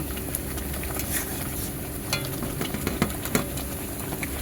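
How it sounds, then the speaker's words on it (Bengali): Masala being sautéed and stirred in a pan for a yogurt-style green jackfruit curry, a steady low sizzle with occasional scraping spoon clicks, close and continuous with no talking. "এবারে একটু মিক্সি ধোয়া জলটা এর মধ্যে দিয়ে দেবো, দিয়ে আরও কিছুক্ষণ কষাবো"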